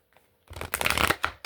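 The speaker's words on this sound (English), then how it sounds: "let me shuffle the other way" A short burst of oracle cards being shuffled, a dense papery riffle that starts after a moment of near silence and runs close and fairly loud for about a second before stopping.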